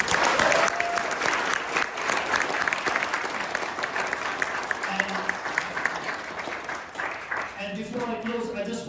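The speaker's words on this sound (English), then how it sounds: "I hope you will all join me in giving them a big round of applause" An audience at a Tibetan Losar celebration in the UK parliament applauds a cultural performance, with dense, sustained clapping throughout that thins slightly near the end as a voice begins.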